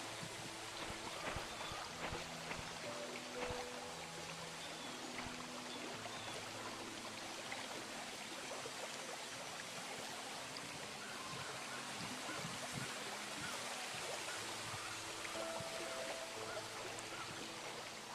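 A steady rushing water stream in The Painscreek Killings, constant and moderately loud throughout with no break, with a faint low background tone and no talk.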